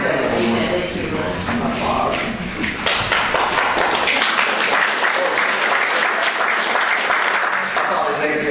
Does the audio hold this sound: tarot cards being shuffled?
no